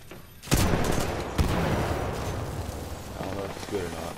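Pilot gunfire in the video game Titanfall: loud bursts of rapid shots with a sharp onset, followed by dense, sustained rumbling battle noise and some voice-like sounds mixed in.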